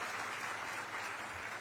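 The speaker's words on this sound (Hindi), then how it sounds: "तालियां बजती रहनी चाहिए आपके।" Faint, distant applause from an audience at a Chhattisgarh government job-offer ceremony, a brief, even wash of clapping.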